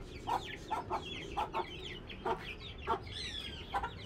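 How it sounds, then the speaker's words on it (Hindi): A silkie hen clucks while being lifted out of her cage, a series of short, close, throaty clucks in irregular bursts of two or three with brief pauses between. "तो अभी मुर्गी को निकालते हैं थोड़ी देर।"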